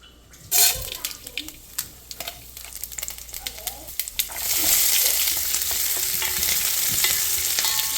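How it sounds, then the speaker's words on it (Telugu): Chopped amaranth leaves (thotakura) fry in a pan, with a few sharp clanks and stirring scrapes that give way to a loud, steady sizzle. No one speaks. "ఇక్కడ తోటకూర ఫ్రై చేస్తున్నాను"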